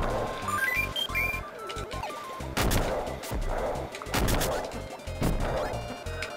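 Bomb explosions in the Kirby Super Star Ultra video game sound out as repeated sharp crashing blasts over bright chiptune music, several bursts in quick succession.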